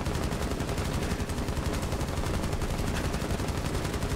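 Dense, continuous automatic gunfire from a Rainbow Six Siege match, loud and sustained for the whole stretch with rapid overlapping shots and no pauses.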